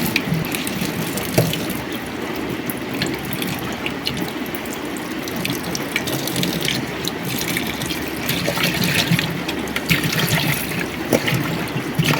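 Water pours steadily over chopped raw plantain pieces in a bowl to soak, a continuous close trickling and splashing that runs on evenly without voices.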